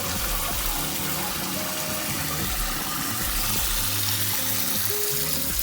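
Hot water running steadily from a home kitchen tap to soak sweet potatoes, a continuous loud rushing gush close by, unbroken from start to finish.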